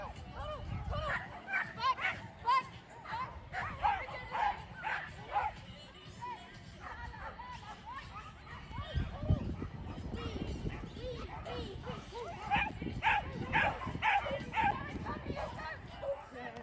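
A dog running an agility course at an indoor show, with yips and barks scattered through steady crowd noise and talk, several bursts close to the microphone amid constant background chatter.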